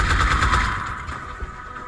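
Weapon fire rattles in XCOM Enemy Within during a site recon mission, a rapid burst of loud automatic shots that fades into a lingering echo, with no talking.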